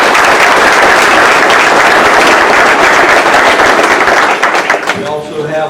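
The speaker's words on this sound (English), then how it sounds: "I want to give these folks a round of applause." Loud, close applause from an audience at a courthouse ceremony, dense clapping that fades in its last second while a voice starts speaking as it dies down.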